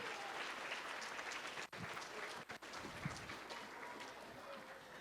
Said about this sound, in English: So give yourselves a round of applause for being here on behalf of your children.